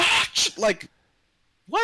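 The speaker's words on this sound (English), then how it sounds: "Since you sneezed just now" A single sharp sneeze right at the start, close and loud, followed by brief speech, then a pause and another voice.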